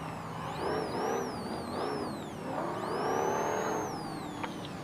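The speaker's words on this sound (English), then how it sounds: "Revving up." An Ultra4 off-road race car engine revs hard at the start of a race at Prairie City, a steady loud roar with rising and falling pitch sweeps that carries through the whole stretch.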